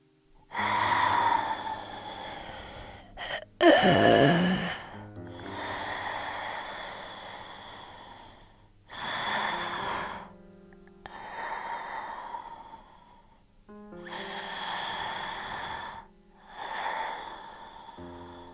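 Slow, heavy breaths in and out, each a long rasping swell separated by pauses, close and alone, with one sharp gasp near the start.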